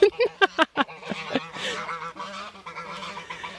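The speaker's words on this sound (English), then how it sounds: "these geese have obviously been under lockdown for too long. They're way too excited to see us." Geese honk close up along the Aare river in Bern, starting with quick sharp bursts and trailing into a longer run of overlapping honks.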